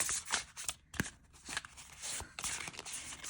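Oracle cards are riffled and shuffled up close, crisp flapping bursts and snaps repeating in quick succession.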